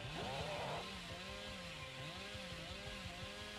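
A chainsaw revs continuously in the Dead by Daylight video game, its buzzing engine tone wobbling up and down in pitch with repeated surges, fairly loud and steady with no speech.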